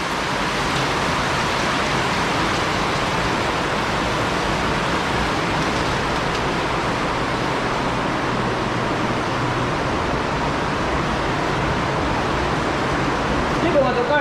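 Dense, steady downpour of heavy rain roaring continuously throughout, a broad wash of water noise with no breaks, near rice fields.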